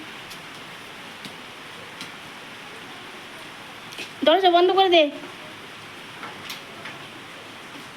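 Heavy rain pouring steadily during a storm at a wedding house, a constant even hiss, with a short burst of someone speaking midway.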